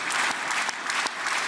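Sustained applause fills the Israeli parliament for Trump, a dense, steady wash of clapping from a large crowd with a few sharper individual claps standing out, no voices rising above it.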